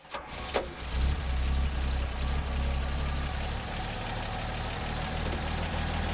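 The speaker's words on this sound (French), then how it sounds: "Ces petits moteurs ont vraiment un ralenti sympa, non?" A small classic car engine idles steadily at a car show, a low, round, even rumble that runs close and continuous after a brief start-up burst.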